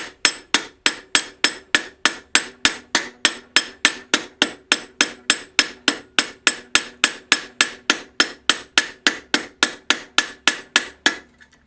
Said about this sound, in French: une fois de plus avec mon marteau à boules